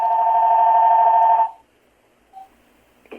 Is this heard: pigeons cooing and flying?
no